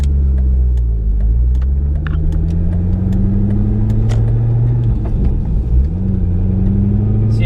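Car engine running steadily, with its note dropping and then recovering as the driver clutches in and brakes, audible as a pump or alternator pulley spinning down; a loud, close, continuous drone with faint higher whines.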